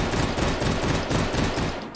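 Burst fire from a Beretta M93R with its stock attached in H3VR, a steady string of rapid, loud, close shots lasting about two seconds with no talk.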